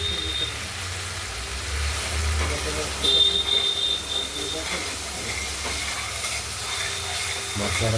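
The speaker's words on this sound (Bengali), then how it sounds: "মশলাটা ধীরে ধীরে কষছে।" Ground spice paste fries slowly in oil for a katla fish curry with potatoes, giving a soft continuous sizzle and occasional stirring scrapes at close range, with a low background hum.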